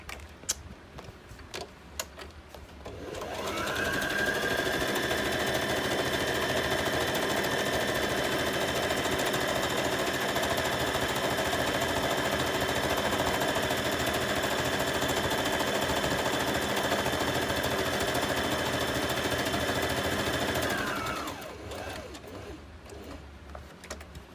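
A sewing machine stitches fabric for a junk journal cover. Its even, continuous whir lasts about eighteen seconds, starting and stopping abruptly, with small clicks before and after.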